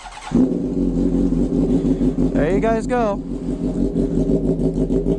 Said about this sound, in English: I'll give it a little bit of rev, not too much though, because like I said, it is straight pipe